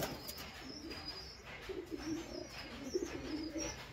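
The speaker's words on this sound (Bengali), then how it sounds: "এই যে টেডি কবুতরগুলো আগের দিন এসছে উস্তাদ আহমেদ কম্বারের ঘরের পায়রা।" Teddy pigeons cooing softly in repeated low phrases, with faint higher chirps and thin background noise, heard fairly close with no talking.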